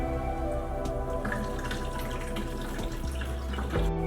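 Lime juice pours and trickles steadily through cheesecloth, splashing softly with a few drips toward the end; no one talks.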